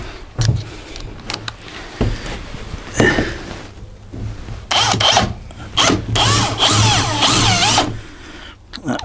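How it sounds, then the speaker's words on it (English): A power drill whirs in short bursts, driving screws into a 27 ft Nauticus cruiser boat under restoration, with rubbing and handling noises between the runs. "So I shall finish off by putting a couple of screws, no particular order."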